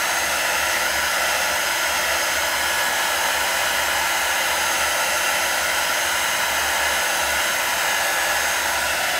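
A hair dryer blows steadily and continuously up close while drying glittery painted craft backgrounds, a constant loud whooshing hum with no speech.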